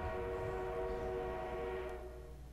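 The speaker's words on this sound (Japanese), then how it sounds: "あ、敵の装甲列車が来た。" An enemy armored train rolls in during a Battlefield 1 match, its horn sounding as a sustained tonal blast over rumbling rail noise before fading toward the end.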